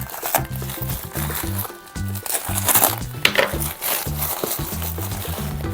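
A plastic parcel from an online order is handled and opened up close, its packaging crinkling and rustling loudly in continuous irregular bursts over a low background rumble.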